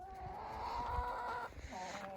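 An Ispenç hen clucks and murmurs up close in a short, continuous run of throaty tones, ending in a few softer calls.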